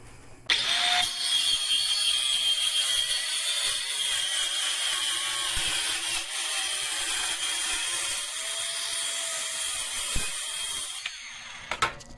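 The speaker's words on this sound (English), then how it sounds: "All I'm using is just a cordless saw, guys. It's just got a regular old carbide blade on it." A cordless saw with an ordinary carbide wood blade cuts through aluminum, giving a steady, loud high-pitched whine and screech for about ten seconds with a sharp start and a tapering finish.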